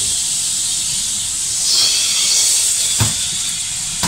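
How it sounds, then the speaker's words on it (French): Liquid hits a hot pan to deglaze it while ratatouille cooks, giving a steady close hiss of sizzling steam that swells around the middle and ends with a short sharp burst. "Je vais déglacer un peu. Ça va libérer tous les souches."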